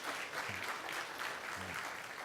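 A church congregation clapping in applause during a service, a faint, even patter of many hands heard from a distance.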